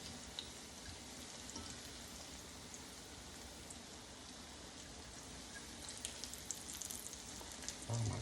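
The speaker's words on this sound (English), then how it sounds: "Always remember to fry these on a very, very, very low fry." Sliced plantains frying slowly in oil over very low heat give a steady, gentle sizzle with fine crackling bubbles, quiet and continuous, without any talking.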